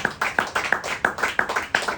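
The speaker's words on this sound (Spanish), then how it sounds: "Denle un aplauso al Señor" A church congregation claps in worship, producing a brisk run of sharp, fairly close claps in a quick, slightly uneven rhythm over a couple of seconds.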